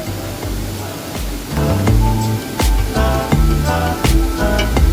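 Fast-flowing water rushes down the Kuderan waterfall near Boradpada, Badlapur, as a loud, continuous roar. Some brief sharp knocks and tonal sounds cut through it.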